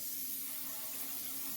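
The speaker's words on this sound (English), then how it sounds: "In a rectangle baking dish, you just want to spray it." Cooking spray hisses steadily into a rectangular baking dish while making banana bread, a faint, continuous aerosol spray from start to finish with no voices.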